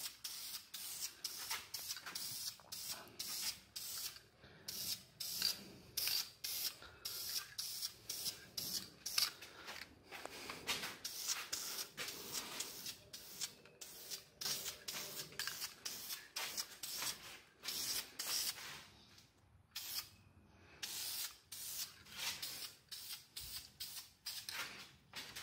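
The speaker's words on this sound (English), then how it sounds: "black caliper spray paint." Black caliper spray paint hisses from an aerosol can in a long series of short bursts, close and fairly quiet, with brief pauses between sprays and no talking.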